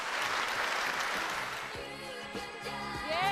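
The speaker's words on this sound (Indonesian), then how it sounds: "Tepuk tangan sekali lagi dong." Applause from a studio audience welcoming guests on an Indonesian anti-corruption talk show, a dense clapping wash that thins toward the end as music and tonal sounds rise beneath it.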